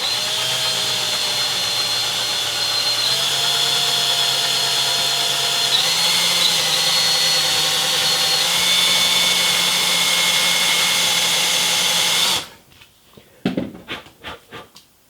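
A power drill whines steadily and loudly for several seconds, its pitch shifting slightly as it bores a hole for a threaded concho, then cuts off, followed by a few scattered clunks.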